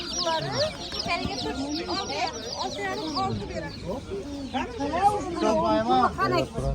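Chickens, including three-day-old chicks, cluck steadily and densely at close range while people talk throughout at a busy poultry market in Hazorasp, Uzbekistan.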